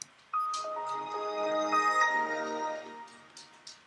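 The Windows startup sound: a short, bright chime melody swells and rings with layered sustained tones, then fades out. No talking.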